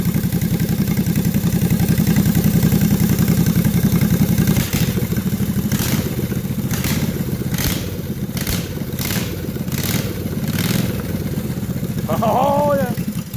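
A Toro Workmaster three-wheeler engine fitted with a canister muffler runs steadily on a workbench, a close, loud, even chugging idle with a few sharp knocks and clatters partway through and a brief voice near the end.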